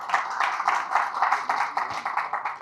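Audience applause at a live business seminar, a steady wash of many hands clapping together at close to moderate distance with a slightly pulsing rhythm, no voices over it.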